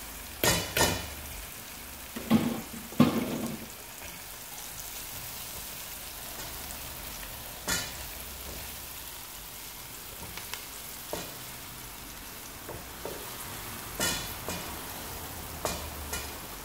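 Garlic frying in a pan of oil and butter, with a faint continuous sizzle broken by several sharp spatters and stirring knocks spread unevenly over the stretch.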